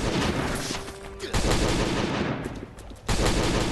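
Gunfire from a player shooting at a tough boss enemy in the survival video game Last Day on Earth, with dense, loud bursts of shots, a brief pause, then more rapid firing alone without talk.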